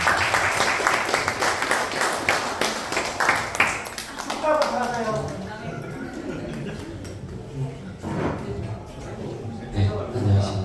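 Audience clapping at a school's 33rd graduation anniversary and teacher retirement gathering fills the first few seconds, then fades as a voice begins a congratulatory speech over the room.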